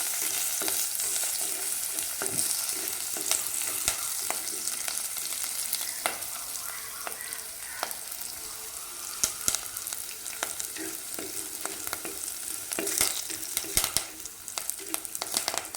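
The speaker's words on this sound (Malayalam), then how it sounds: "മുറിച്ചതും കറിവേപ്പിലയും കൂടെ ആഡ് ചെയ്യുക. വീണ്ടും ഇളക്കുക. നല്ല മൂത്ത് വരുന്നത് വരെ ഇളക്കി കൊടുക്കുക." Chopped ingredients and curry leaves fry in a pan for a Kerala sardine chili curry (mathi mulakittathu), a steady close sizzle broken by repeated scrapes and knocks of stirring throughout.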